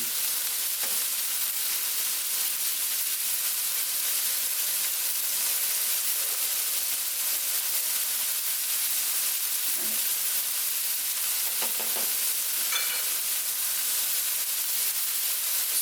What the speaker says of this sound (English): Stir my noodles a little bit.